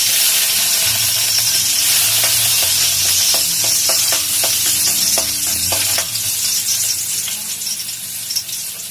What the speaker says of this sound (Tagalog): Ang ating mantika, mainit na. So, ilagay na natin yung ating bawang.